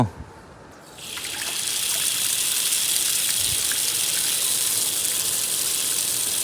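Steady water flow hisses from a hose turned on low at a cattle shelter, starting after a brief quiet moment and continuing evenly, close and fairly loud.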